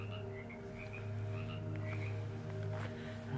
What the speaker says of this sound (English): Here's where all the frogs are.